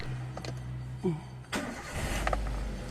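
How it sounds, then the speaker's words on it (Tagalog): A Toyota Avanza engine with a check engine light and occasional misfire is cranked and fires up, a brief starter whir then a steady close idle rumble, after an earlier engine note cuts off. "Tapos, start ko ulit itong makina ni customer."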